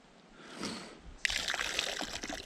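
Water sloshes and splashes in a bucket, soft at first and then a sharper, busier pour with trickling spatters, close by and moderately quiet.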